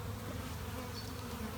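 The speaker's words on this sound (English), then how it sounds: "just in front of the swarm of bees" A swarm of honey bees being caught into a hive gives a faint, steady, continuous drone of buzzing wings, distant and unbroken throughout.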